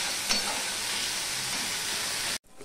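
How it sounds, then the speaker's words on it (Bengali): Yardlong beans and onion fry in a pan with a steady, broad sizzle. It holds evenly for about two seconds and then cuts off abruptly. "এবার আমি এটা লাল লাল করে ভেজে নেব।"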